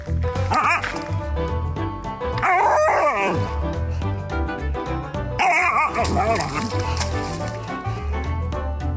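A dog gives a run of yipping, whiny barks and whimpers close by, coming in bursts over a few seconds with other sounds around it.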